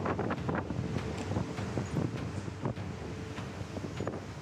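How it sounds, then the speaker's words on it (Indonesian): Strong gusty wind roars across a microphone at Merak ferry port during a stormy night with high waves, a steady broadband rush with a few sharp knocks and no talk. "Gelombang tinggi dan angin kencang membuat kapal feri yang hendak bersandar bergoyang dengan hebat."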